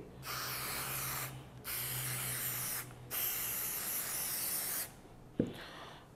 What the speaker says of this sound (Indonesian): kita semprotkan cleanernya saja ke majun atau kain lap yang kita pakai seperti ini